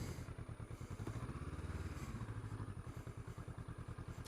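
A motorcycle is turned around near a bridge by a river, its engine idling in a quick, regular, thumping pulse close by, briefly rising in pitch midway before settling back to the steady beat.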